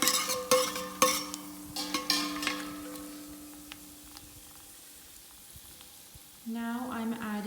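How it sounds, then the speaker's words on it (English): Whole masala spices dropped into hot oil for a mutton bhuna goat curry, sizzling with a few sharp clinks and stirs early on, the frying settling low before a louder surge of sizzle near the end. "I'm going to add in all of the whole masalas."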